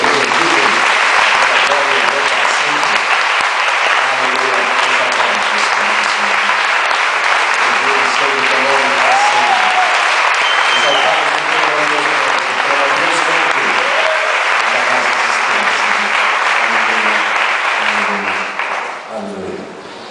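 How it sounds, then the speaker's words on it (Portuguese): Church congregation applauding during a Portuguese-language sermon, a loud, dense and sustained crowd clapping that carries on for about twenty seconds, with voices mixed in before it fades at the end. "Vamos aplaudir a Ele mais uma vez"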